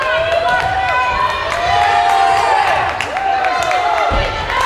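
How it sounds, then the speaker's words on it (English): A home crowd at a high school volleyball match in a gym cheers and shouts steadily, loud and continuous, with an announcer talking over the noise. "This Putnam crowd pretty fired up."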